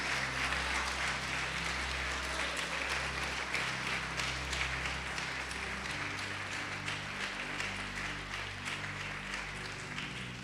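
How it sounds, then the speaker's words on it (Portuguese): A church conference crowd claps steadily and continuously, the applause sustained at an even level over a low background hum. "Vamos aplaudir o Senhor e glorificar a Deus."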